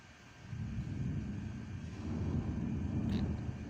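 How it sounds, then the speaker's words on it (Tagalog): A low, deep rumble of thunder during a nighttime rainstorm rolls in and swells, sustained and heavy, with a faint constant hiss in the background and no voices. "Lakas ng kulog."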